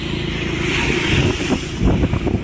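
Kadamba bus coming along a misty ghat road: a loud, rumbling engine drone passes close by, with a hiss and rattle rising toward the end.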